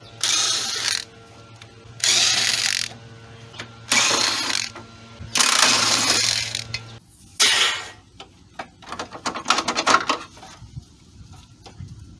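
A ratchet loosens 10mm bolts on the AC pipes of a Toyota Sienna, giving several loud bursts of rapid metallic clicking close up, with pauses and a steady low hum between strokes.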